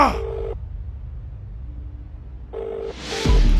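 A telephone rings in a quiet room, giving two short electronic trills separated by a long silent gap, each one close and moderately loud.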